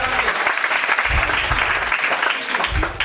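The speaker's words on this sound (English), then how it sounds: "Clap for them," Audience applause at a police quiz competition: a dense, steady burst of many hands clapping that fills the whole stretch at fairly close range, with no voices over it.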